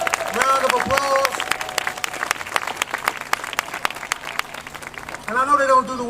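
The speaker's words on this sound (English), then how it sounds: "If we can give them a resounding round of applause." Audience applause at a ribbon-cutting ceremony for DC's Go-Go Museum, a steady burst of crowd clapping with dense claps and some voices mixed in, swelling slightly toward the end.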